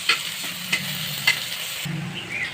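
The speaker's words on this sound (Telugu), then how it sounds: "ఇలా కాసేపు ఆయిల్లో ఫ్రై చేయాలి" Crushed peppercorns and cardamom frying in oil for kichdi, a steady soft sizzle broken by a few sharp spoon scrapes and clicks, no talking.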